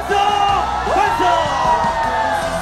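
A large crowd yells, whoops and cheers together at a peaceful street rally at Seoul City Hall. Loud overlapping shouts rise and fall for about three seconds.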